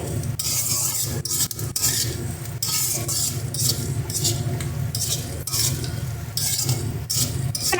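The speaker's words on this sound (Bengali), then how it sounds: "নারকেলটা কিন্তু একদম বেশি কড়া করে ভাজা যাবে না" Grated coconut being fried and stirred in a pan at home, a steady scraping and rustling stir with a sizzling undertone, continuous and close throughout with brief louder strokes.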